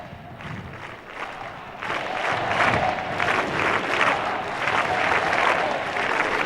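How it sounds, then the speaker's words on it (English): A large crowd of university students cheers and applauds at a World Youth Day meeting with Pope Francis at the Catholic University of Portugal in Lisbon. Steady clapping and shouting swell louder after a moment and keep roaring continuously. "And we hear the crowds."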